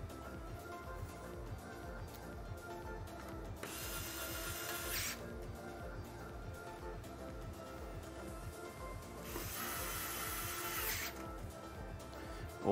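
Two short bursts of whirring from an electric screwdriver driving in the last screws of a PC build, close by, with faint clicks and handling between them and no talk.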